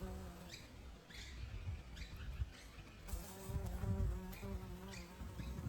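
Bee buzzing around blackberry flowers outdoors: a faint, wavering buzz that rises and falls as the insect darts about, over quiet background rustle.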